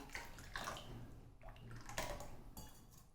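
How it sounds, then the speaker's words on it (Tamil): Water trickles and splashes steadily into a bowl of rava dosa batter for a few seconds, with soft sloshing and faint clinks of a utensil nearby. "இன்னும் கூட கொஞ்சம் தண்ணி ஊற்றிக்கலாம்."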